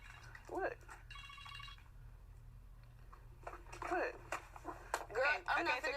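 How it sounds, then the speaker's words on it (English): A phone's ringtone sounds briefly, then falls quiet, over a low steady hum, with people talking before and after it. "I'm used to that phone going off, but that go off every few minutes."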